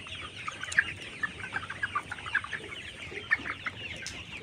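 Vaccinated layer pullet chickens clucking steadily on a farm in short, overlapping calls, fairly close, with a busy flock murmur underneath.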